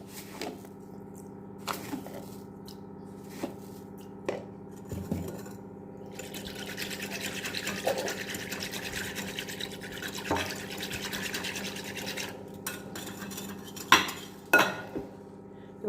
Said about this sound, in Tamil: தயிரை வந்து மோராக்கிடலாம்.